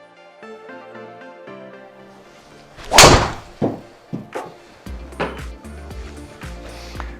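Outdoors, a single loud, crisp impact rings out as a Ping G430 driver hits a golf ball, followed by a few softer knocks and clatter close by, without speech.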